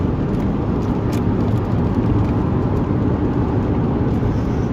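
Steady road rumble and wind buffeting from a car driving with its windows open, loud and unbroken for the whole stretch.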